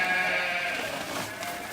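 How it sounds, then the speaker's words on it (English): Sheep bleating in a barn during lambing season, a loud, close, wavering bleat that carries through the whole short moment, with other flock noise blended behind it and no talking. "let's get these sheep to be quiet"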